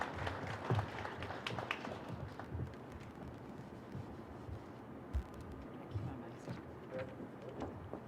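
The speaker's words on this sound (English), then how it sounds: "Let's give a round of applause to all medical professionals who are fighting this battle." A small group gives a round of applause for medical professionals at a coronavirus briefing, with scattered, uneven claps that are fairly faint and distant, mixed with background murmur.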